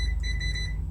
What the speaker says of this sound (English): I'm going to put my multimeter in beeper mode